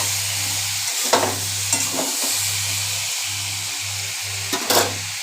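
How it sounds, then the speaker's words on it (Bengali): Mixed vegetables sizzle and fry in a pan while being stirred, with steady loud sizzling, scraping stir strokes at intervals and a low hum underneath. "এবার একটু ভাজা ভাজা,"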